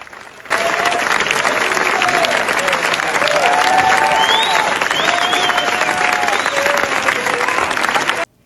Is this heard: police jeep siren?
no